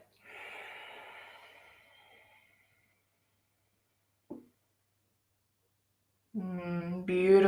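A soft breath in yoga nostril breathing, one long airy exhale fading out, then a short sniff, then a spoken voice at the end.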